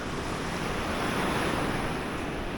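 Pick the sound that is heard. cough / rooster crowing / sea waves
sea waves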